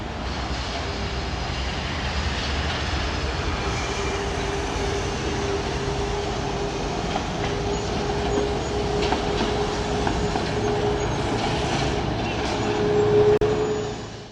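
An interregional passenger train crossing northern Romania rumbles along the rails, a steady broadband roar with a faint tonal whine that swells slightly toward the end.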